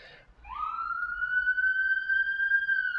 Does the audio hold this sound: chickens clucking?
no